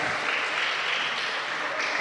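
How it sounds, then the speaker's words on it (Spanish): Church congregation applauding a sermon reading, a steady dense wash of clapping hands that holds evenly from start to finish with no voices over it. "Vamos a darle un buen aplauso a esta palabra"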